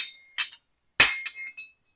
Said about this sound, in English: we're going to use this lovely dead blow, and I'm going to come over to the anvil face